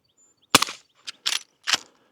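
A suppressed Derya RAN lever-action rifle firing .38 Special and .357 cartridges: three or four sharp, muffled cracks spaced roughly half a second apart, close and isolated against silence.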